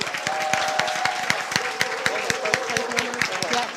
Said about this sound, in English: We can now give them a round of applause.